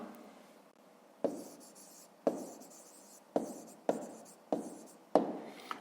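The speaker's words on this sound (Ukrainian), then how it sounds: "Пишемо відповідь в першому завданні." A pen writes out the answer to a fifth-grade math exercise, producing soft scratching strokes broken by six sharp taps as the tip meets the paper, quiet and close, with no talking.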